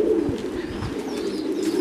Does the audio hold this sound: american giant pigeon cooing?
yes